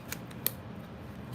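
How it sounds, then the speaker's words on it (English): Scissors cut paper for a junk journal, a few quick close snips in a quiet room. "Just cutting it out."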